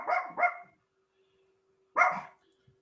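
A dog barks close and loud, two quick barks followed after a short pause by a third, with a faint steady hum in the quiet gaps.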